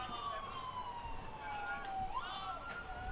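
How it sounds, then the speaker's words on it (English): Emergency vehicle siren wailing in the distance near a JV high school baseball game, a steady tone slowly sliding down then rising again as it sweeps, heard alone without talk. "we've got sirens, so it may not be good"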